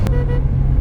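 A brief horn-like tone from a BMW E30 sounds over a loud, steady low engine rumble close by.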